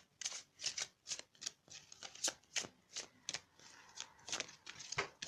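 Tarot cards are shuffled by hand close up, a series of quick papery riffles and flicks in irregular bursts, fairly quiet with no talking.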